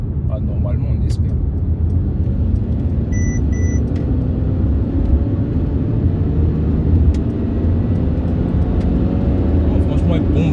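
Mercedes C300 4matic sedan under hard acceleration, a loud, steady engine and road rumble lasting throughout, with people talking over it inside the car.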